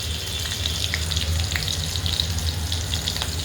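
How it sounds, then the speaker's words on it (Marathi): Cumin seeds and green chili crackle and sizzle in hot oil for a sabudana khichdi, a steady close frying hiss with scattered small pops and no voices. "तेल आपलं गरम झालेलं आहे आणि जिरं टाकते थोडंसं आणि मिरची पण टाकून घेते"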